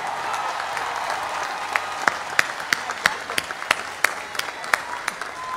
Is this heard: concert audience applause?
yes